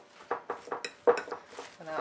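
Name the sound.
stirring seed, nut and dried fruit bar mixture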